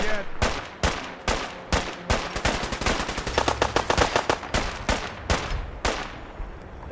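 Gunshots from the video game Fallout 4: a series of sharp, loud reports that starts as spaced single shots and quickens into rapid bursts, with sparser shots trailing off at the end.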